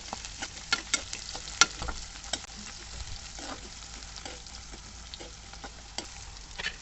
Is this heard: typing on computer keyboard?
no